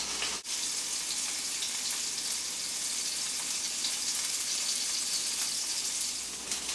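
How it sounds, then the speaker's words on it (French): A bison medallion sears in a hot frying pan, giving a steady, loud hiss and sizzle that holds evenly without pause. "vous allez mettre le médaillon dans la poêle. Puis on va faire cuire du premier côté le médaillon"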